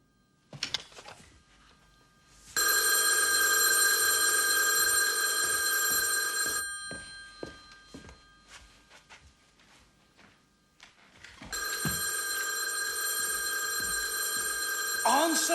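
An old telephone bell rings in two long, loud bursts with a pause between them, as voices talk and thumps sound in the gap.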